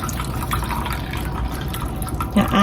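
Beef consomme is poured straight into a baking dish, a close, steady liquid pour with light splashing and trickling that grows a bit louder near the end.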